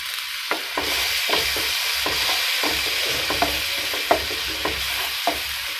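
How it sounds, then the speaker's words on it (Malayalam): Ground tomato paste from three medium tomatoes cooking in a hot pan for chilli egg, a constant low sizzle broken by regular spoon scrapes and clinks as it is stirred, close and moderately loud. "ഇനി ഇതിലോട്ട് അരച്ച് വെച്ചിരിക്കുന്ന ടൊമാറ്റോ പേസ്റ്റ് ഒഴിച്ചു കൊടുക്കാം"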